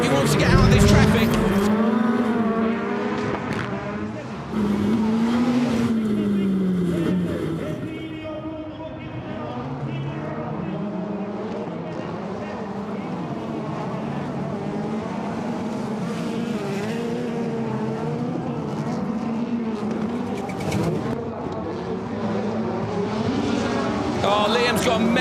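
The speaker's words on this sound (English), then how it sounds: "That car looked mega through turn one, and he's up the inside of Bakker again." Rallycross race cars at Spa howl through the corners, engines rising and falling in pitch as they pass, loud and continuous under a commentator's excited voice.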